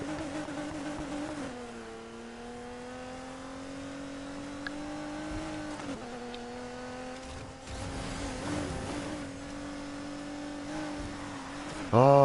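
A car engine in the racing game Need for Speed Heat hums steadily at close range, its pitch dipping and climbing with gear changes through twelve seconds of driving, with no voices over it and a brief louder burst at the very end.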